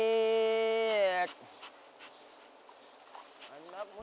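Wild forest honey bees in Danau Sentarum National Park make a steady, close, harmonic buzz that cuts off abruptly after a second, followed by faint, scattered insect buzzing and rustle in near quiet.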